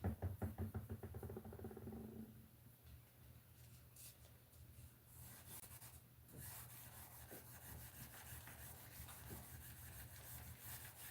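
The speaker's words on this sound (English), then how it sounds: "600 grit sandpaper now" Hand sanding with 600 grit sandpaper makes quiet, steady rubbing strokes that stay soft and close throughout, with no speech over it.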